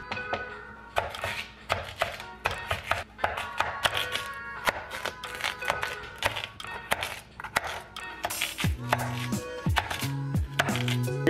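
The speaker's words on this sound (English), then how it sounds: "I feel like now will be the perfect time to use it since we are cutting up some sweet potatoes." A HexClad knife chopping sweet potatoes on a cutting board, a long run of quick, sharp knocks with brief pauses, close and crisp, with a few louder thuds toward the end.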